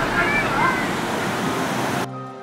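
Hukou Waterfall in winter roars as a loud, dense, unbroken wash of rushing water that holds steady for a couple of seconds before cutting off abruptly.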